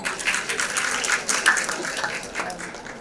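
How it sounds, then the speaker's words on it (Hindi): Clapping from an audience at a women's honours award ceremony, a dense, moderately loud patter of hands that rises and falls in small waves over a few seconds. "जोरदार तालियां हो जाए।"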